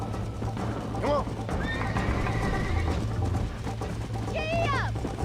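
A ridden horse lets out two bright, wavering whinnies between a muddle of hoof clip-clops and movement noise, with a voice talking over parts of it.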